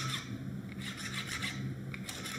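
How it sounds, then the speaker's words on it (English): A hand file rasps steadily along the cut edges of a small forged metal serpent pendant in repeated close strokes, with a continuous gritty scraping and no voices. "I might want to do some filing just to take out any sharp"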